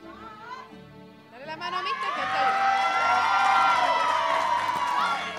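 A crowd at a school graduation cheers and claps for a student. Thin voices come first, then loud whoops and applause swell and hold strong.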